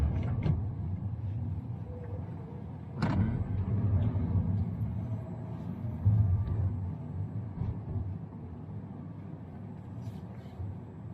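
Manual car in motion after shifting into second gear during a driving lesson, a steady low engine and road rumble inside the cabin with a sharp knock near the start and faint voices underneath.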